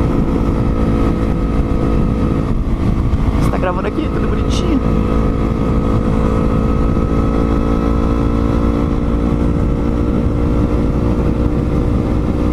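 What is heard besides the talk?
Yamaha MT-03 motorcycle exhaust sound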